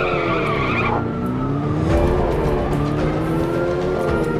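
Car skidding loudly in the video game Gangstar New Orleans, tires squealing in long sliding wails over a revving engine, loud and close with no talk.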